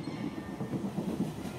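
A train rolling along rails with a dense, rumbling clatter, steady and continuous at moderate level, no voices.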